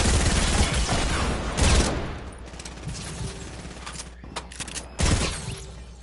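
Automatic turret fire in a video game, bursts of rapid shots near and loud at first, then fading to scattered, quieter firing before a final louder burst.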